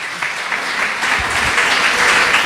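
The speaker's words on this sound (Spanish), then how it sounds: "Den un aplauso a Jesús." A congregation in a church service applauds for Jesus, a steady wash of clapping that swells slightly and continues evenly with no one speaking.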